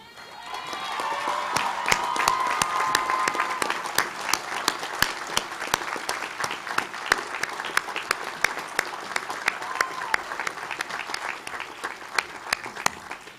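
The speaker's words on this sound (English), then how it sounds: "I was going to ask you to join me but in a round of applause" Sustained applause from a large commencement crowd honoring the university faculties, dense clapping building early, then continuing steadily with sharp individual claps standing out, no speech over it.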